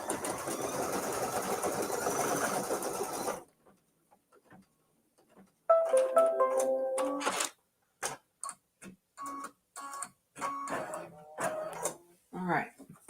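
An embroidery sewing machine stitches a leaf in dark green thread, running in a continuous buzz, then in short rhythmic bursts with ticking pauses, while a person talks between the runs.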